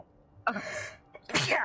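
A single person sneezes close up, with a short inhaled build-up and then a sharp explosive burst, and a brief spoken word slipped in between.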